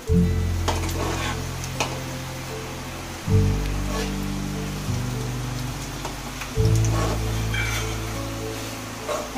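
Plantain flower and prawn chops deep-frying in hot oil in a nonstick pan, a loud steady crackling sizzle broken by louder hissing bursts about every three seconds as more chops hit the oil.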